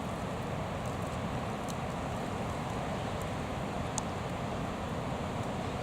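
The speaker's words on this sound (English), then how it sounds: "Listen to that wind." Wind blows steadily outdoors in the Australian bush, a continuous broad rushing roar with microphone buffeting, even and unbroken throughout.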